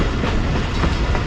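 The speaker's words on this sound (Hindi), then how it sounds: "ये ट्रेन हमारी मियाँ चन्नू रेलवे स्टेशन पे अप्रोच कर रही है" A passenger train pulls into Mian Channu railway station, its steady loud rumble carrying continuous wheel clatter on the rails with no voices over it.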